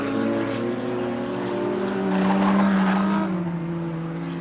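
A Porsche race car on an oval stockcar circuit, its engine roaring steadily and rising in pitch as it passes close by, loud and continuous with no talk.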